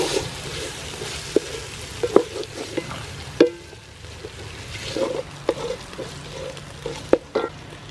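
Dry sweet pepper fries in a pan for a chicken curry, with a soft steady sizzle broken by repeated sharp scrapes and clacks of stirring.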